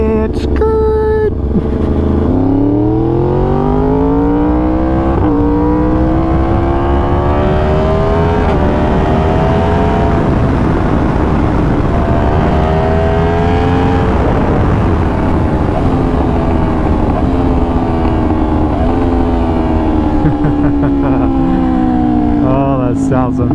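Yamaha R1 sport motorcycle being ridden, its engine revving and rising through gears with a high smooth whine, loud and continuous, swelling and easing as the rider accelerates and slows.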